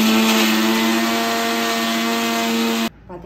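A mixer grinder blends butter and sautéed garlic into a veg sandwich spread, running as a loud, steady motor whine that cuts off abruptly near the end.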